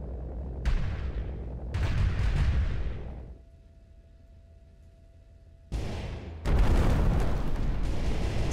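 Cannon barrage explosions in a destruction video game: dense, loud rumbling blasts that pile up into a continuous roar, stop briefly for a quiet lull, then return in heavy waves.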